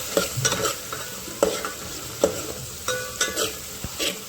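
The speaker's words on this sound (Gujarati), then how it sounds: "હવે આપણે મસાલા બરાબર શેકાવા દઈશું." Spices roast in a pan for potato masala curry, a soft sizzle running under repeated scrapes and clinks of a spoon stirring at an irregular pace.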